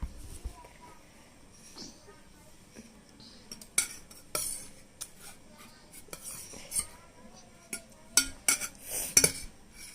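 A spoon clinks and scrapes against a dish as a young child feeds herself, with light irregular taps that sharpen toward the end, close by over quiet room noise and soft voices.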